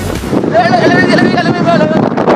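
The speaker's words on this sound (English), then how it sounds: "Really windy. Very, very windy." Loud, gusty wind on Orkney buffets the microphone in a steady roar, with a voice faintly audible beneath it.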